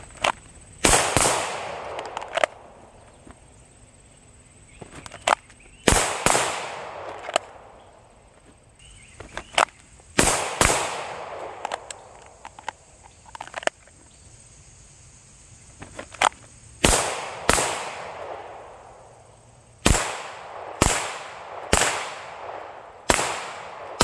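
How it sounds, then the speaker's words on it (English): Glock 17 Gen 4 pistol fired at targets outdoors after draws from a holster: loud sharp reports in bursts of two to four, separated by pauses, each with a short ringing decay. "So I'm just going to do a couple draws and pops on the targets right here."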